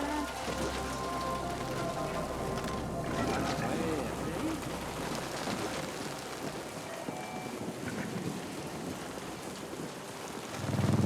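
Steady rain falling across a street in the sci-fi video game The Ascent, a dense constant hiss with occasional drops and faint distant rumbles.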